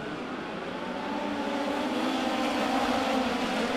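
Midget race cars at Arrowhead Speedway in an Xtreme Outlaw Midget Series race, engines roaring together in a steady loud drone that swells slightly as the field gets back up to speed.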